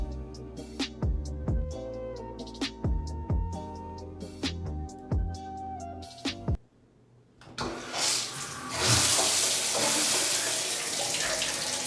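Cold shower water starts running after a run of short clunks and knocks, then builds to a loud, steady broadband spray that keeps going to the end, close to the microphone and without talk.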